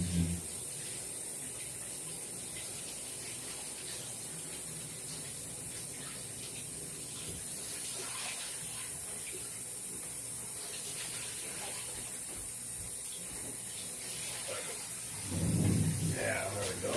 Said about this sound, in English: Rinse them out.